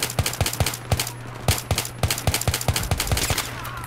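Rapid bursts of automatic gunfire from the Battlefield 3 campaign, a run of sharp, evenly spaced shots close by over a steady low hum, with no talking.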